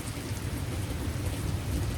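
Heavy thunderstorm rain pours steadily in Naugatuck, Connecticut, a dense hiss of falling water over a low rumbling thunder undertone, loud and continuous with no voices.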